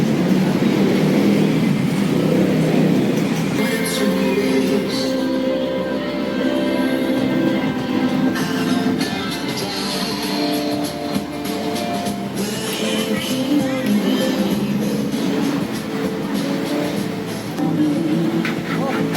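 A train rolls past beside a hot roadside in central Bangkok, a steady loud rumble and clatter that holds for nearly twenty seconds, with traffic noise and some talk mixed in.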